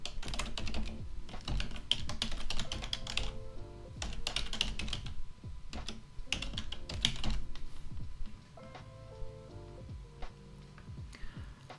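Someone types a website address on a computer keyboard: quick bursts of clicky keystrokes with short pauses between them, close and clear, with no talking.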